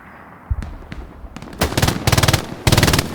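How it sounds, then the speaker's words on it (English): Machine gun fire in the video game Hell Let Loose: a few scattered single shots build into loud, rapid automatic bursts that rattle in quick succession, with no speech. "Ekron with the MG"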